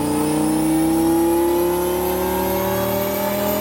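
An 8-liter V10 in a Dodge Viper GTS with an upgraded exhaust revs hard and continuously, a loud rising engine howl sustained throughout with no voices.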